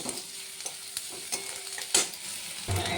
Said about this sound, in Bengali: পেঁয়াজটা একটু লাল লাল মতো ভাজবো।